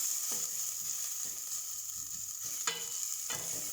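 Ginger and garlic sizzle steadily in a hot pan, a soft continuous frying hiss with a few scraping stirs of a utensil, fairly quiet and without talk.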